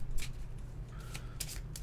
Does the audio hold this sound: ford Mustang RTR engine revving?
no